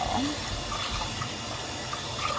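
Rice being rinsed in a bowl of water for Persian dill and fava bean rice, heard as a soft, steady wash of splashing and trickling water close by, with faint voices in the background.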